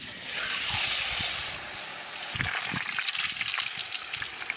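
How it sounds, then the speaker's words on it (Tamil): Quail coated in masala drops into hot oil and erupts into a loud, bubbling sizzle that swells, eases, then returns with stirring scrapes and crackles over a continuous frying hiss. "எண்ணெய் நல்லா சூடாயிடுச்சுங்க. அப்படியே காடைய மசாலாவோட இறக்கிடலாம்."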